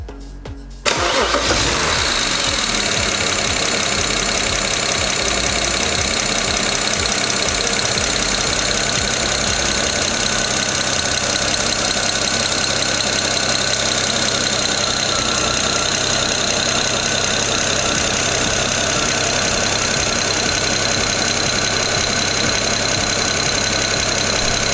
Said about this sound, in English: We're gonna start the car up now and see what they look like.